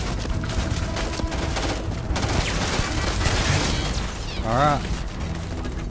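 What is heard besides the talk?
gunfire in the video game Starfield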